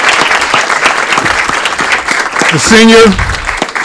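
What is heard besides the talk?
applause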